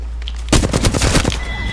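Rapid burst of video-game gunfire, a close, loud stream of shots rattling after a brief quiet start, ending with a short high ring.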